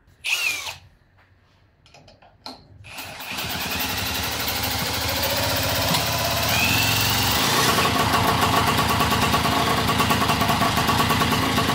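Brief whirring starts, then a moped's small two-stroke engine with a worn Polini 43 cylinder catches and runs steadily nearby with a buzzing, rattling idle that keeps going to the end.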